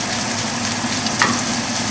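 Sausage sizzles steadily in a non-stick Ozeri pan, cooked for biscuits and gravy, as a close, loud, even frying hiss that runs unbroken for the whole two seconds with no one speaking.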